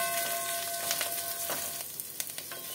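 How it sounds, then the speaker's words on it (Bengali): Whole spices including cumin, poppy seeds, dried red chillies, ginger, garlic and curry leaves fry in a pan for a South Indian mutton curry, a close, steady sizzle with a few stirring scrapes and crackles, no speech. "সবগুলোকে আমি ভাজবো।"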